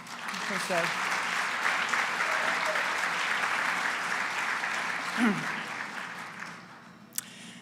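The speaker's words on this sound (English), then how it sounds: "So round of applause." At a women in business awards ceremony, an audience gives a round of applause, a sustained, fairly loud spread of clapping with a few voices mixed in, tapering slightly before a sharp click near the end.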